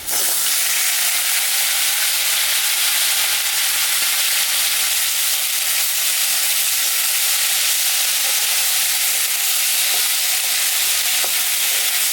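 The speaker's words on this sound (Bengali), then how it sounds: "ভাজা ভাজা হয়ে গেছে এখন আমি লাউ ডোগা আর আলু এটার মধ্যে দিয়ে দিলাম" Bottle gourd stems and potato frying in hot oil give a loud, continuous close-up sizzle and hiss that runs unbroken throughout, with faint stirring scrapes underneath.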